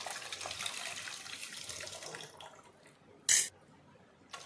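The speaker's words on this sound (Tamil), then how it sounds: "தேவையான அளவு தண்ணி சேர்த்துக்கலாங்க." Water pours into a pot of rasam with tamarind and salt, a soft gurgling trickle that fades, then a brief splash near the end.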